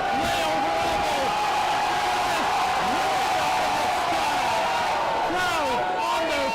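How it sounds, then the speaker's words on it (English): A wrestling crowd on its feet fills the arena with a dense, sustained roar and scattered shouts and whoops, loud and continuous throughout, with a commentator's voice running over it. "Crowd on their feet here."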